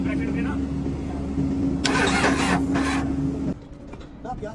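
A Cummins diesel engine cranks and catches, then runs with a louder burst of revving before settling to a lower idle, close by, with voices talking over it.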